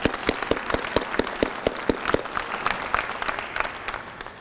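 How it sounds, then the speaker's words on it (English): Audience at a police awards ceremony breaks into applause, starting with sharp, evenly spaced claps that swell into a dense, steady round of clapping from a room full of people. "We can give her a round of applause, please."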